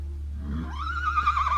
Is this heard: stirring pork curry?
no